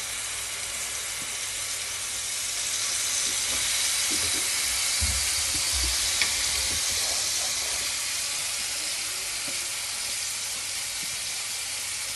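Date paste frying in ghee for khajoor halwa gives a steady broadband hiss and sizzle throughout, with a few faint low knocks from stirring in the pan and no talk.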